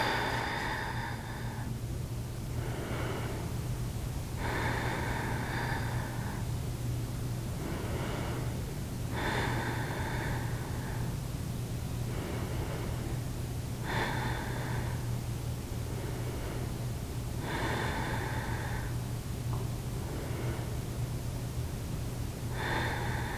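Slow, deep yogic breathing during a sun salutation, long audible inhales and exhales repeating in a steady rhythm roughly every few seconds, close to the mic over a constant low hum, with no talking.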